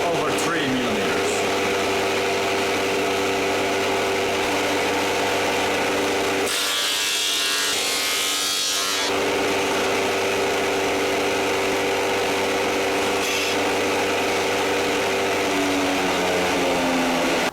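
A woodworking machine slices wood down into thin veneer about 2.5 millimetres thick, giving a loud continuous droning whir that drops out briefly midway and then resumes steadily.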